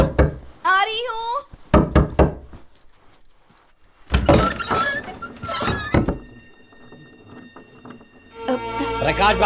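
Loud knocks and thuds on a door sound in a few sharp bursts between stretches of talk and vocal sounds, with a tonal ringing layer toward the end.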